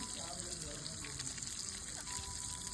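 Sun-dried vegetables (vathal) fry in hot oil with a steady, moderately faint sizzling hiss that runs continuously through the moment, with no clear talk over it.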